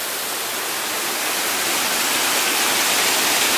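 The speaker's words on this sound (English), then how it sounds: "chill out with the sounds of a waterfall" A waterfall in a relaxation area at Knott's Berry Farm pours with a dense, steady rushing hiss that stays loud and unbroken throughout.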